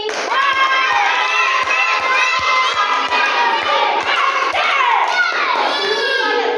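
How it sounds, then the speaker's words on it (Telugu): Children at a Sunday school class clap and cheer together, a loud dense burst of hand claps mixed with high excited shouting voices, continuous throughout. "వావ్, క్లాప్స్ కొట్టండి."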